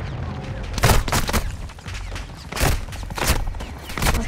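An air strike hits a building in Call of Duty, with heavy booming blasts and rolling rumble arriving in several loud waves, close and dense, with no pause between impacts.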